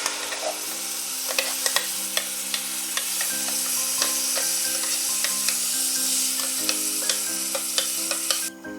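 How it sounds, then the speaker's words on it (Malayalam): Guava paste frying in hot ghee on a low flame while being stirred, a steady sizzle with regular sharp scraping clicks of the spoon against the pan, close and alone with no talk. "ഇനി അതിനകത്തേക്ക് നമുക്ക് നമ്മുടെ പേരയ്ക്ക പേസ്റ്റാക്കി വെച്ചത് ഇട്ട് കൊടുക്കാം കേട്ടോ."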